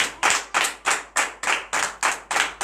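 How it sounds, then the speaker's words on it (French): A congregation at a morning prayer service in Benin claps in acclamation with eight sharp, evenly spaced claps in a brisk unison rhythm, loud and close, with no voices. "Donnez de vive acclamation à notre Seigneur Jésus."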